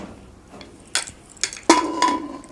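Metal pressure cooker lid with a rubber ring being fitted on, giving a few sharp clanks and knocks spaced apart, ending in a ringing metallic clink, close up in a quiet kitchen.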